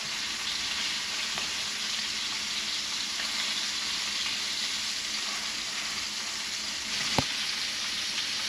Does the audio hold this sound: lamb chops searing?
yes